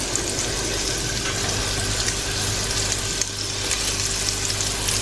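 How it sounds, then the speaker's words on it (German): Fish fillets fry in warm oil in a pan, giving a loud, continuous, close sizzle with a steady crackling hiss and no speech. "Und dann legen wir die Filets schön ins warme Öl."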